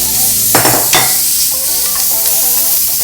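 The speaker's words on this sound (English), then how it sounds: "You ready for the sizzle?" Onions sizzling loudly in a hot pan for black bean and chorizo chili, a steady crackling fry with a couple of sharp bursts as they are stirred.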